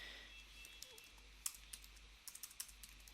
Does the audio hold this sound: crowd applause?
no